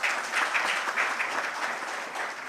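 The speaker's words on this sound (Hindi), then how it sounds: "आप मन भी ताली बजा के बधाई दे" An audience at an award ceremony claps in congratulation, a loud, continuous burst of many hands that tapers slightly toward the end.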